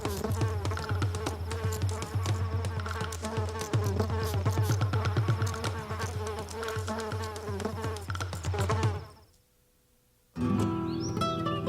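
Insects buzz around flowers in a garden, a dense, close, continuous drone of wings with overlapping whines that cuts out briefly before the buzzing resumes.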